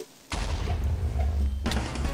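Two loud, sharp blasts of a creeper exploding in modded Minecraft, each a sudden full-bodied boom that lingers briefly, spaced about a second and a half apart.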